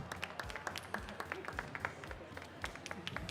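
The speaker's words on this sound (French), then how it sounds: "Un tour d'applaudissements pour Imad" Scattered, uneven clapping from a modest crowd at a coffee championship, individual claps standing out sharply and close in a brief burst of applause.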